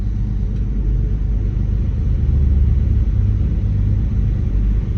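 A Tigercat 6900 grinder's engine revs up, a heavy, loud, close low rumble that holds steady and swells slightly midway.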